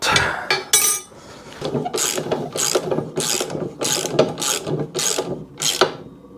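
Ratchet tightening bolts on a motorcycle frame jig, with a series of rapid clicking bursts repeated at a steady rhythm, close and clear.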